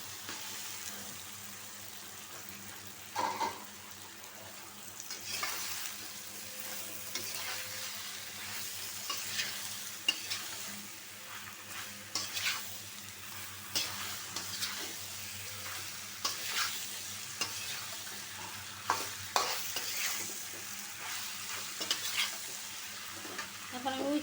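Taro pieces go into a pan of hilsa fish curry, bringing steady stirring, scraping and soft sizzling frying throughout, with occasional louder clinks of a spoon against the pan.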